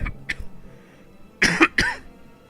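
A man coughs and clears his throat in a few short, sharp bursts, close and fairly loud, with quieter coughs before a stronger double burst.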